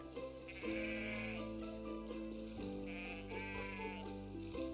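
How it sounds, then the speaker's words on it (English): Sheep bleat in the farming game Everdream Valley, several drawn-out wavering calls overlapping above a steady bed of game music, moderately close and clear with no talk. "Did we lose a sheep?"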